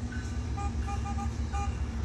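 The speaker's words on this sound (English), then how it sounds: "standard honking" Car horns honk in short repeated toots over a steady rumble of road traffic, loud and close, with no one talking.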